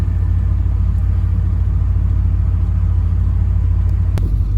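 A new golf cart driven around outdoors gives a loud, steady, low motor rumble that stays close and unbroken throughout, with no talking.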